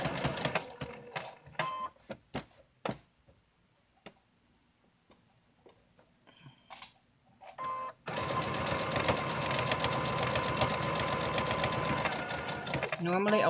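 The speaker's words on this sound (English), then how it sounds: "Normally I would tell you do not sew over your pins, but I'm only doing it this time because I needed to make sure everything was lined up." A home sewing machine stitches a robe pocket over pins, a sustained loud whirring run after a stretch of clicks, taps and handling sounds, with a person talking early on.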